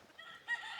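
Hens in a henhouse on a frozen winter farm give a short burst of clucking, with a louder call rising midway through under a second.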